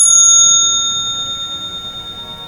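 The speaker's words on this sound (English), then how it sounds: "I was able to pull off the part that goes ding really nicely, and so it sounds even better now" One clear metallic ding rings out from the detachable piece of a candlestick, struck once and then sustaining with a pure, slowly pulsing decay in a quiet room.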